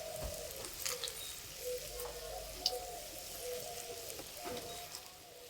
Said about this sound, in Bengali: আস্তে আস্তে জাল দেবা, বড়াগুলো ভেজে নেব।